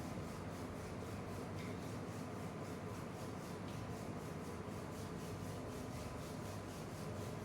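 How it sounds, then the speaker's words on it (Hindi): Both palms rubbed briskly together during an ear-strengthening exercise, a close, continuous dry swishing friction at even volume with no voices. "अपने पाम्स को रब करना है।"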